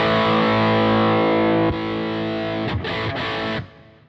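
A heavily distorted electric guitar chord through a Bogner Goldfinger 45 amplifier on its JCM 80 circuit rings out loud and sustained, then is struck again more quietly with a few choppy strums before cutting off.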